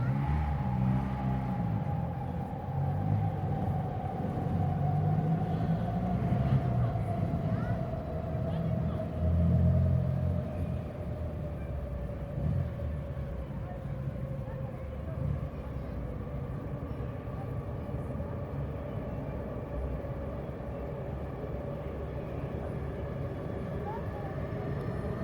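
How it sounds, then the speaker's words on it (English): A train passes beside a station, a continuous low rumble with a slowly falling tonal whine that lingers throughout, steady and moderately loud with no speech. "I record beside a train station and I don't edit it out."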